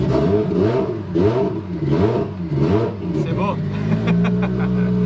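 A Nissan S14 engine with no exhaust line revs loudly and close in several rising and falling pulls, then settles into a steady idle while someone speaks briefly.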